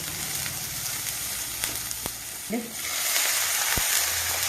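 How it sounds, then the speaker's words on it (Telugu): Tomatoes frying in a pan while ragi soup is prepared, a quiet steady sizzle with a few scraping stir clicks and knocks, faint and close, with a voice speaking softly over it. "టమోటా కరిగిన వరకు ఇలాగా వేయించుకోవాలండి"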